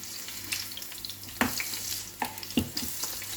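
Fish egg bhaji batter sizzles in hot oil, a soft continuous frying hiss broken by a few sharp crackles and pops.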